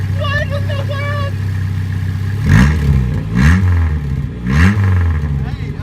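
Loud, raw rumble of a 1996 Chevy Cavalier engine running with the exhaust removed, surging in three short revving bursts over a steady idle, close by, with excited voices talking over it.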